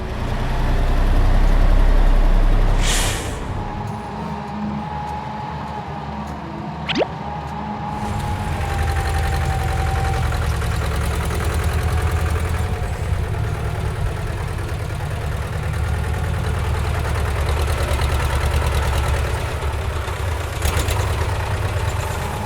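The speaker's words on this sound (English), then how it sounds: "Then a truck for transport heavy loads brings an excavator." A cartoon heavy-transport truck carrying an excavator idles with a loud, steady low engine rumble, joined by a brief hiss and a sharp tonal squeal partway through.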